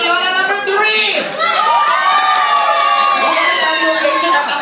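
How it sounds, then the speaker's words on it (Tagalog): An audience applauds and cheers loudly and continuously for Lola number 3 in a contest at a Jollibee event, with children shouting and whooping throughout. "Try natin kung sino pong pinakamalakas na palakpak."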